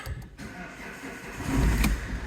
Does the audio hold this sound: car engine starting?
yes